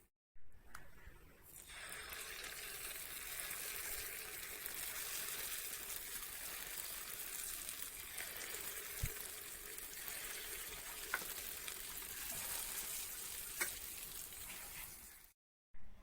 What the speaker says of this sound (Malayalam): ഇതുപോലെ ഓരോ ട്രിപ്പും ഇട്ട് ഫ്രൈ ചെയ്ത് നമ്മുടെ ഉണ്ണിയപ്പം റെഡിയാക്കി എടുക്കാം